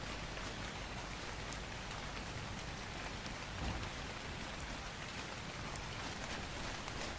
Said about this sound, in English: the rain does sound really good